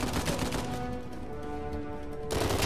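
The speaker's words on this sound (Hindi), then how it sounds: "अच्छा गोली लग रही है तब भी गोली चलाया जा रहा है" Gunfire in the video game Uncharted 4, a dense burst of rapid shots at the start, a quieter tonal stretch in the middle, then loud shots again near the end.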